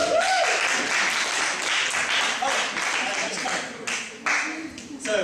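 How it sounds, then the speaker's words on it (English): A studio audience gives a round of applause, dense clapping that holds fairly steady for several seconds with a few sharper bursts near the end. "Please give a warm round of applause."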